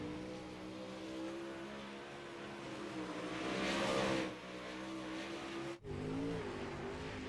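A race car on a dirt track during track prep for a season-opening race, its engine droning steadily at a distance, swelling as it passes and briefly cutting out before resuming.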